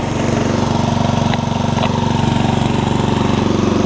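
An older Murray riding mower engine runs steadily at close range, a loud, even mid-pitched chug with a fast regular pulse and slight throttle wavering, no voices.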